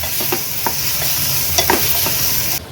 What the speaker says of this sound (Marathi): कांदा छान गुलाबी रंगाचा होईपर्यंत लो फ्लेमवर आपण ह्याला शिजवून घेणार आहोत